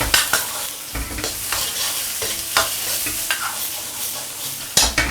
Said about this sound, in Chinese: 炒香过后呢，我们下入芹菜，翻炒它